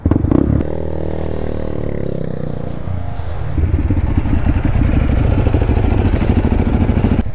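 A Ducati V-twin motorcycle rides past, its engine rumble building with a rapid, pulsing clatter as it accelerates, loud and close, with no talk over it.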